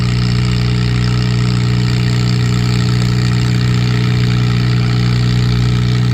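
An antique pulling tractor engine idles at a tractor pull, a loud, close, steady low chugging drone with an occasional irregular miss, no talking.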